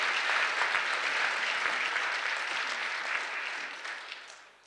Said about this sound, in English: Can we give one more round of applause for all our fantastic panelists?